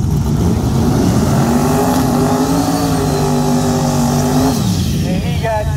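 Turbocharged drag racing cars, including a white Mustang in the left lane, launch together with a loud, sustained roar and rising engine tone that drops sharply near the end, close and continuous.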